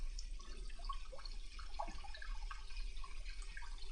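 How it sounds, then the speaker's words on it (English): Tap water runs steadily from a salon shampoo bowl faucet, a soft continuous splashing hiss held at an even level throughout with no voices. "whenever you are at the shampoo bowl, you should always turn your water on and wait for it to heat up"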